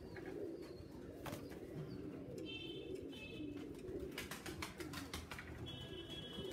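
Flying pigeons coo softly at a pigeon-racing event, the low repeated calls mixing with chirps and a busy outdoor background hum and no clear speech.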